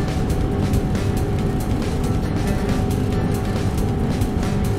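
The Antonov An-225 Mriya's jet engines hold takeoff power in Microsoft Flight Simulator, producing a loud, unbroken roar with no voices over it.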